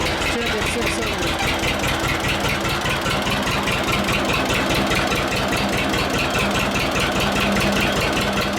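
Carburetor engine idling at about 600 RPM, a steady, even, pulsing rumble close by, with a person talking over it.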